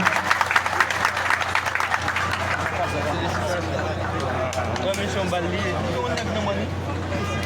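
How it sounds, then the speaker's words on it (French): An audience applauds at a ceremony in Miragoâne, a burst of clapping that settles into a steady crowd murmur with scattered claps and a constant low hum underneath. "Madame, monsieur, je vous demande d'applaudir"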